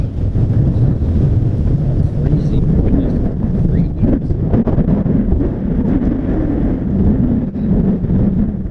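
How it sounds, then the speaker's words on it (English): Strong wind buffeting the microphone in a constant low roar, gusty and loud throughout, with faint speech buried underneath, in cold snowy weather. "You can hear it windy."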